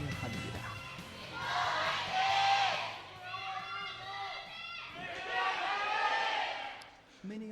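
An esports arena audience chants a fan cheer for Griffin before a League of Legends match, with loud rhythmic crowd voices rising and falling in ragged waves.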